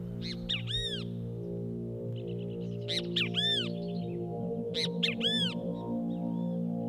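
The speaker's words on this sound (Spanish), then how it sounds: "La presencia del gato produce inquietud entre las aves." Wild birds in highland country, alarmed by a wild cat, give repeated harsh cawing bursts in three clusters over a low steady hum, calls fairly close and sharp.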